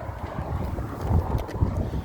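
Wind buffets the microphone outdoors beside a 1973 BMW 520 E12, giving a steady, rumbling roar with gusty swells and no speech.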